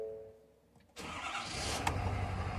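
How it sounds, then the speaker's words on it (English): A Ford 6.7 Powerstroke diesel in a 2018-2023 pickup truck cranks and fires at about one second, then settles into a loud, steady running rumble after a brief quiet lead-in. "Let's start the truck."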